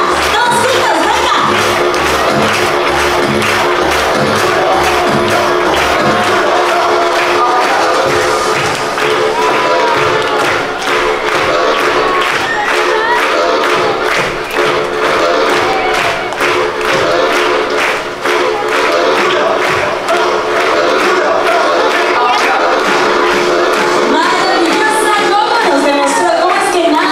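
Audience clapping in rhythm to loud music at a sea lion show in an aquarium in Mazatlán, steady rapid claps from a large crowd under the music throughout, with a voice calling out at times.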